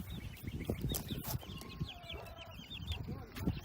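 Backyard chickens in a crowded coop cluck and murmur in a soft, continuous chatter, faint and fairly close, with scattered higher calls and no talking.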